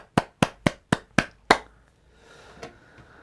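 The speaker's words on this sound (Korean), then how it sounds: "우리 하나님께 영광의 박수 올려드리겠습니다" A church congregation gives a short burst of applause, six sharp, evenly spaced claps that fall silent after about a second and a half, followed by faint room murmur and a stray later clap.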